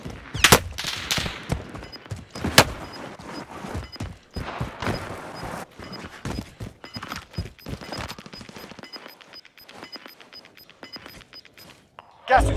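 Rapid bursts of gunfire in a battle royale shooter on the Stadium map, sharp cracks scattered densely early and thinning into sparser shots later, with a player's voice over the top.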